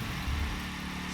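A street-racing car's engine in The Crew 2 holds a steady high-gear drone, loud and continuous with a low rumbling undertone and no clear rise in revs.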